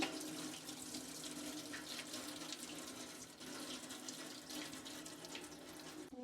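Rice for mutton biryani is washed under a running kitchen tap, a steady splashing rush of water with faint stirring, continuing evenly without talk.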